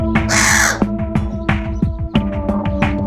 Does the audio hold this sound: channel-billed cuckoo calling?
yes